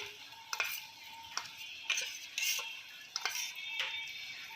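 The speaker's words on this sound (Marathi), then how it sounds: "अशी स्लरी तयार करायची, व्यवस्थित हलवून घ्यायचं" A spoon stirs cornflour slurry in water, giving soft, quiet swirls broken by a few light clinks against the bowl at an uneven rhythm.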